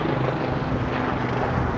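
A helicopter passes overhead with a continuous low engine and rotor drone, steady and fairly loud, with no talk.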